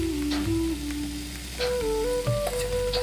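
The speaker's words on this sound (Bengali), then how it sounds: "আমি হালকা তেল দিয়ে এবার ফুলকপিটা ভালো করে ভেজে নিব।" Cauliflower fries in a little oil in a pan, giving a steady close sizzle throughout with faint stirring scrapes, and no voices.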